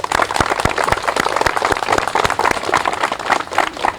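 An outdoor audience at a trail dedication gives a loud round of applause, dense overlapping hand claps with sharp individual claps throughout, close and lively.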